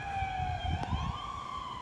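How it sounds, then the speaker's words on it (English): Police car siren wailing at moderate distance, a steady rising and falling tone against faint low background noise. "Yeah, that's a police car."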